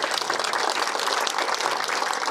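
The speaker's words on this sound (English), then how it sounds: "give those two a nice round of applause" Steady applause fills the room at a university golf tournament awards ceremony, a dense, even patter of many hands clapping together with no talking over it.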